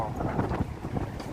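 Wind gusting across a microphone on a Manhattan street near 10th Avenue in the Hudson Yards area, a brief buffeting rumble.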